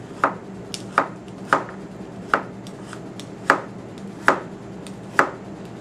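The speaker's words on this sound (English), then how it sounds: "And I'm just going to chop with my right hand. I'm slicing forward and down." A knife chopping a carrot into slices on a board, seven or eight crisp, evenly spaced chops close up in a quiet kitchen, no talking.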